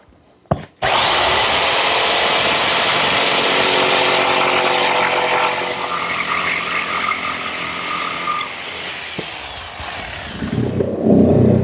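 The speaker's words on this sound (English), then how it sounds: "I've laid out the panel, and I'm going to actually just use a handheld jigsaw to make the cut." Handheld jigsaw cutting a wood panel for a linen press, a loud, close, continuous buzzing rasp running for about ten seconds after a brief start, then stopping, with no talking.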